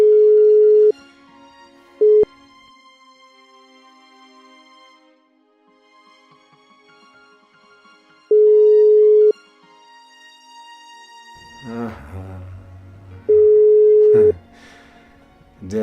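Loud phone ringback tone from an unanswered call, sounding in a few separate beeps with long quiet gaps between them. Faint background sounds come in toward the end.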